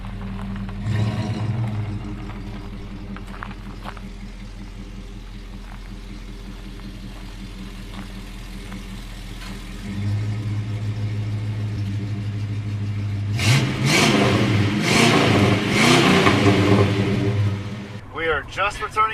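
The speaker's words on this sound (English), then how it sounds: "Let's hear the beautiful exhaust note" A Lincoln Continental idles with a low, steady exhaust rumble, then climbs into a couple of louder revs near the end before dropping back, heard up close and alone.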